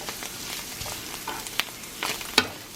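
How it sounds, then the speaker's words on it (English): Soft crackling and sizzling from shrimp frying in a hot pan, with a few sharper pops and scrapes standing out against a steady low hiss. "So I'm just going to keep frying this for a couple more minutes"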